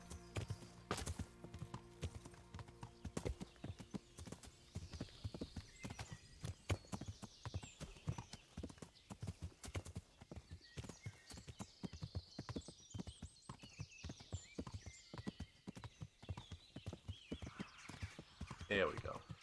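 Horse hooves clip-clop steadily through a long stretch in the medieval video game Kingdom Come: Deliverance, a rhythmic run of close, crisp thuds with a few whinnies and someone talking over it.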